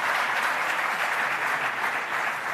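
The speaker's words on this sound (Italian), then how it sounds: "facciamo un applauso" An audience claps loudly and continuously at a football awards ceremony in Umbria, a dense, even wash of applause with no speech.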